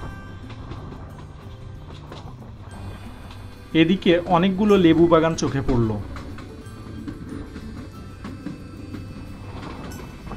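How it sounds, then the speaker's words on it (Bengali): Jayantika Express rolling along the tracks past tea gardens after leaving Srimangal station, a steady low rumble and rattle heard from inside the carriage while someone speaks over it. "শ্রীমঙ্গল স্টেশন থেকে বিরতি দিয়ে এখন আবারও ছুটতে শুরু করেছে আমাদের ট্রেন।"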